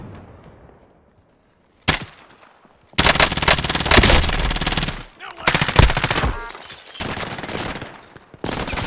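Loud gunfire in a battle royale video game: a short burst, a brief pause, then sustained rapid automatic fire and repeated bursts continuing to the end, close and dominant.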